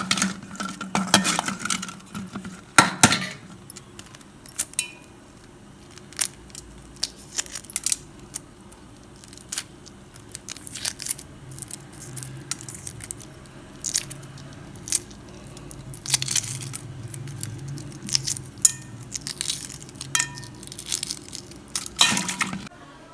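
Boiled eggs being peeled by hand while making Tamil egg curry (muttai kulambu), close and quiet, with irregular small cracks, crinkles and scrapes of shell scattered throughout.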